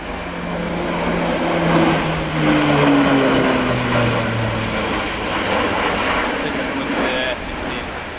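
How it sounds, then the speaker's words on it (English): An Airbus Military A400M Atlas turboprop transport roars past at an air show, loud and sustained with a slowly falling engine tone, while a commentator talks over it. "Charlie Mai and Tony Flynn with the Airbus military A400M Atlas."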